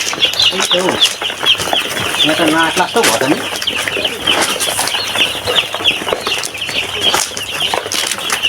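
A crowd of chicks being put into a coop keeps up constant shrill peeping nearby, while a person talks over them and there are intermittent handling thumps and rustles.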